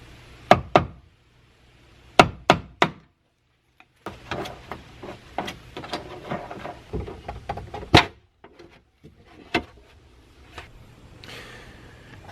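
A hammer drives a screwdriver to knock loose trim screws on a BMW M6 F13 coupe, giving sharp metallic knocks in small clusters with pauses, followed by quieter scraping and tapping handling noises.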